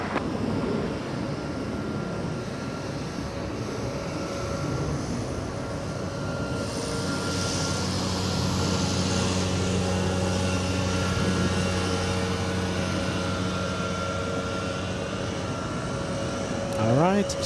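A Korean Air airliner taxis across runway 24 left at LAX on the last taxiway, Bravo Bravo, heard as a faint, distant, steady engine drone with a low hum that swells slightly midway.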